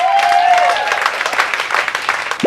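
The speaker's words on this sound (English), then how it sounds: "here's some applause for you" Canned applause sound effect triggered by a button in a cartoon, a burst of crowd clapping with a rising whistle-like tone at the start and a short sharp swoop near the end.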